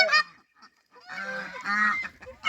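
Loud, harsh goose honks in short bursts with brief pauses between, close by on a farm with chickens and ducks, and with no talking.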